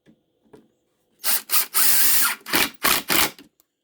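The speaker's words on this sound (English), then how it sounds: "then shoot in another screw" A power drill drives a screw into a mounting bracket for a cabinet, sounding as several loud, close bursts of whirring and ratcheting that stop and start in quick succession.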